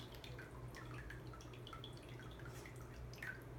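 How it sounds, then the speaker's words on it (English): Faint water trickles and drips in quick, irregular patters, quiet and close, as excess water is poured off watercolor paper. "what I want to do is pour off the excess water"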